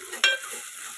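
A spoon stirs turmeric into fried onion masala for egg curry, one brief scraping clink over a soft, faint sizzle in the pan.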